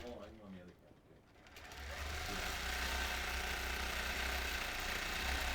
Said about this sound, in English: I'll quilt part way across so that you can see it.